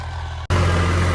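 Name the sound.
tractor engine running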